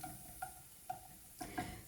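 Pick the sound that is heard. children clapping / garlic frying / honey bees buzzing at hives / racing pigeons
garlic frying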